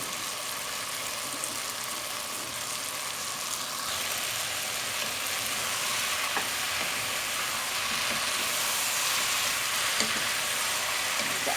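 Fresh mixed vegetables hit a hot pan and fry, a continuous loud crackling sizzle that thickens partway through and carries on steadily, with occasional clinks and no voices.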